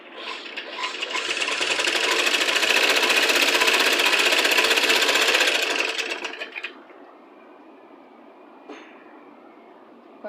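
A sewing machine stitching invisible piping runs in a fast, steady close-up whir for about six seconds, then stops, leaving quiet room tone and a faint click.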